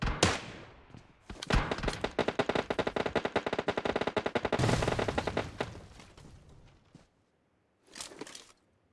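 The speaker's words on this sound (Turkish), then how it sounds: "Onlar kime sıkıyor lan?" Automatic gunfire from the PUBG Mobile game sounds as long, rapid bursts of rattling shots, loud and dense. The bursts then trail off into a brief silence before a final short volley.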